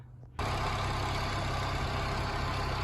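An Austin Allegro car engine starts up and then idles steadily and loudly nearby with a smooth, even low rumble and no voices.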